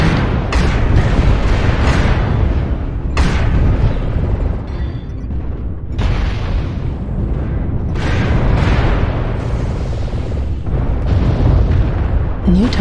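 Incoming missiles strike a mech in a MechWarrior Online battle on an alpine map, a series of loud, sharp booming explosions at irregular intervals over rumbling combat noise, with a synthetic warning voice heard among them.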